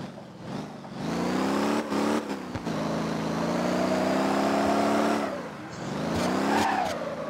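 A Supra sports car in the Motor Town: Behind The Wheel driving game accelerates hard, its engine revving up through rising gears with a sustained loud roar, brief dips between shifts, and a tire squeal near the end.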